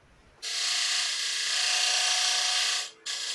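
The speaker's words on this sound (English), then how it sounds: "maybe I'll come in there with my detail gouge, because I can get much tighter with that." A detail gouge cuts a bead in wood on a lathe, giving a steady, close rasping hiss that runs for a few seconds, breaks off briefly, then resumes.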